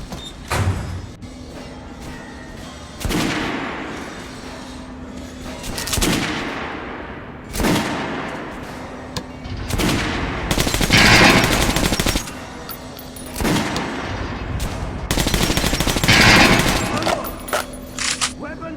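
Kalash assault rifle fire in the video game Metro Last Light Redux: repeated loud bursts of automatic gunfire, some long and sustained, separated by shorter gaps with clanking and mechanical handling sounds, and game voices in between.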